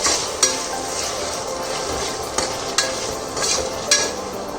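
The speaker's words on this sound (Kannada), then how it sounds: "ಒಂದು 2 ಮಿನಿಟ್ಸ್ ಬೇಯಿಸ್ಕೊಂಡ್ರೆ ಟೊಮೊಟೊ ನೀಟಾಗಿ ಫ್ರೈ ಆಗುತ್ತೆ." Tomatoes with salt frying in a pan for mushroom biryani, a steady soft sizzle under occasional scraping stirs of a spoon, close and continuous with no talking.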